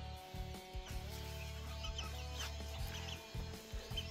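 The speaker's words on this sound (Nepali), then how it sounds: "यस्तो छन् चल्लाहरू हाम्रो।" Young chicks and growing chickens in a western Nepal village give soft, scattered clucks and peeps, faint and distant beneath a steady low hum.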